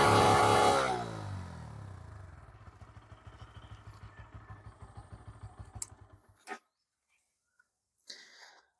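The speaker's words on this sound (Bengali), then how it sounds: "N160-র ইঞ্জিন সাউন্ড যদি তোমাদের শোনাই" A Bajaj Pulsar N160 motorcycle with an underbelly exhaust revs up loudly close by, then its engine winds down into slow, even idle pulses before stopping, followed by brief clatter.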